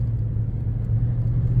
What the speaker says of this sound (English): I'm having to punch it a little bit to get up this just with my truck